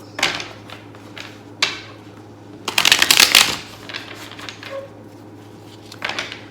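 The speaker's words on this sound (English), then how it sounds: "Do a good hard shuffle." Tarot cards being shuffled hard, with repeated bursts of riffling and a long dense flurry in the middle, close and fairly loud.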